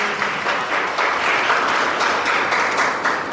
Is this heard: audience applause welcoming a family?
yes